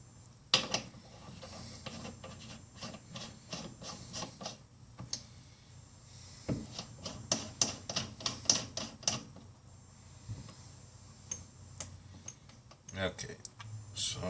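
A cover being screwed down on an RCBS single-stage reloading press gives a close series of quick, uneven mechanical clicks and ticks, with a voice talking at times.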